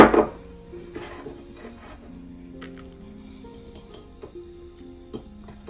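Pestle pounding chilies and aromatics coarsely in a Thai mortar while making stir-fried pork belly with lemongrass, giving a loud first strike followed by scattered knocks and clinks against lingering ringing tones.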